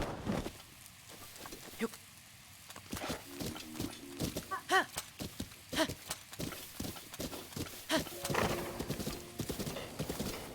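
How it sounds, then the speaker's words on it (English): Horse hooves clip-clopping at a gallop in the video game Breath of the Wild, a rapid steady drumming under game music and effects, with brief talk over parts of the ride. "we'll ride the horseback so we don't lose our horse"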